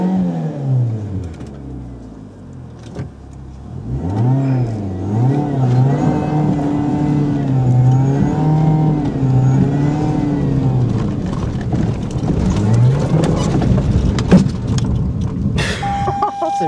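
A 4WD car engine on a snowy mountain pass catches after starting and revs repeatedly, its pitch rising and falling in several surges, close and loud, while someone talks briefly.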